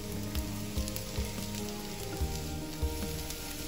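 Onion and mushrooms sauté in a pan, a steady crackling sizzle with a few soft thumps of stirring, heard under faint background music and without speech.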